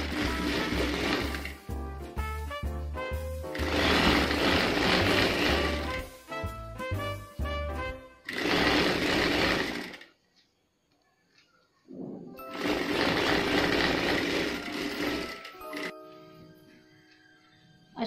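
A sewing machine stitches a folded strip onto a nightgown sleeve in several loud whirring runs of a few seconds each, separated by brief stops, clicks and near-silent pauses.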